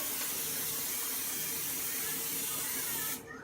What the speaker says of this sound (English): get the cooking spray and spray it all on it